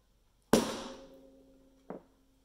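A hammer strikes a metal punch to dimple the aluminium Alox frame of a Victorinox Swiss Army knife: one sharp ringing tap that decays slowly, then a second lighter tap, close and alone.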